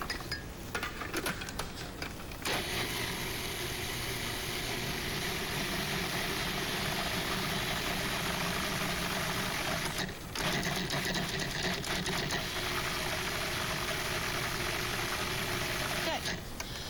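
A blender purees cooked squash with stock, giving a loud, steady motor whir that runs almost continuously and dips only briefly once.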